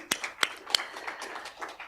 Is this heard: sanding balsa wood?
no